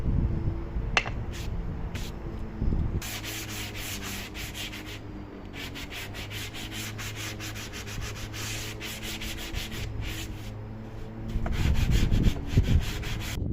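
Wood for a campervan bed being sanded by hand with sandpaper: close, rhythmic back-and-forth rasping strokes in steady bursts, with a few knocks and clunks and no talk.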